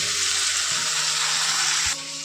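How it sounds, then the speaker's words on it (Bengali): Water pouring into a cooking pan of spices for a Bengali fish curry with beans and potatoes, a steady close hiss and splash that runs continuously, then drops in level near the end as the pour stops. "দিয়ে দেবো এর মধ্যে দেখো সামান্য অল্প একটু জল"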